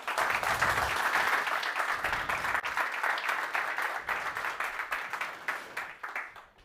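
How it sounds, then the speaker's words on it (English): An audience at a Neos software conference applauds a speaker being introduced, dense steady clapping filling the room, fairly loud at first and gradually thinning out toward the end. "So give a warm applause for Karsten."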